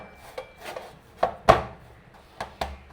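Knife cutting soft bun dough for curry buns into pieces on a board, a handful of separate soft chopping taps at an uneven pace, fairly close.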